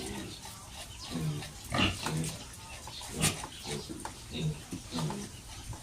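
Native crossbreed pigs and piglets oinking and grunting in a small farm pen, a run of close, repeated snorts and squeals in irregular bursts, fairly loud.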